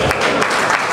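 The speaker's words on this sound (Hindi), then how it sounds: "तालियां बजाओ ने" Loud, dense clapping from an audience at a mushaira poetry gathering in Layyah, a continuous burst of many hands lasting about a second.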